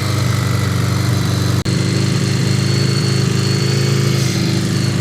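Honda Goldwing GL1100 motorcycle engine idling on a freezing day, a loud, close, steady rhythmic rumble with one very brief dropout, and no talking.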